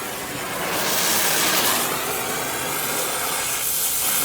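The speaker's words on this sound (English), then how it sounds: "Let's go ahead and light up this torch." A soldering torch is lit and burns on a compressor replacement job with nitrogen flowing through the lines, giving a continuous broad roaring hiss that swells up within the first second and holds steady, close and fairly loud, with no talk.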